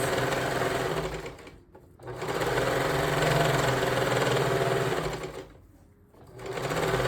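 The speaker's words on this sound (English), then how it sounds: "you're going to sew that elastic to all of your raw edges" A sewing machine stitches elastic onto the raw edges of fabric, running in steady whirring bursts close by, with two brief pauses where the motor stops before it starts again.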